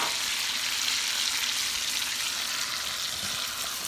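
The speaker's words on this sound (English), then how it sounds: "drop our vegetables in that butter because we're going to saute them." Steady, bright sizzling of vegetables sautéing in butter in a hot pan, a continuous crackling hiss with no talking.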